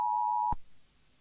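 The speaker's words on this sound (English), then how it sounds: "Loud beep." A loud, steady electronic emergency alert tone holds one pitch for about half a second, then cuts off sharply with a thud, leaving a faint hum.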